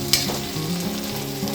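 Potatoes with chili powder being stirred in a frying pan, a close, steady sizzle with a soft scrape of the spoon, no talking.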